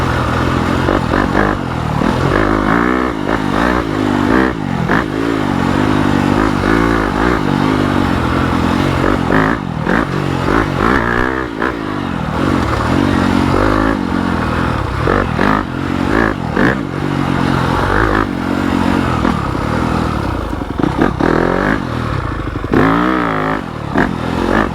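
Yamaha YZ250FX dirt bike with a 270 big bore kit and stage 2 Hotcams, ridden on a flowing trail section in third gear, engine droning loud and close with rising and falling revs, clattering and scraping from the terrain.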